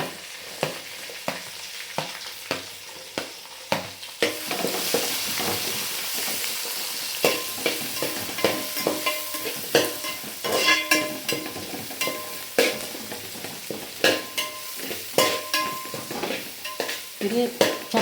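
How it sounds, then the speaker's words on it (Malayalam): Shallots and an onion dropped into hot oil with ginger in a pan for a home fish curry, a steady sizzle of frying with repeated scraping stirs of a spoon against the pan, close and continuous, no talking. "ഇനി നമ്മളിതിലേക്ക് ചെറുള്ളിയും ഒരു ഉള്ളിയും കൂടി ഇടുകയാണ് കേട്ടോ."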